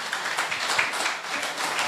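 A church congregation applauds during a Sunday Lord's Supper service, with dense, steady clapping and no talk over it.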